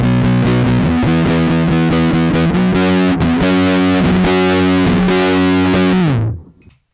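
Electric guitar sounding a distorted power chord built on a perfect fifth, a loud, thick sustained strum with a second attack about a second in, ringing for around six seconds before being cut off, with no talking.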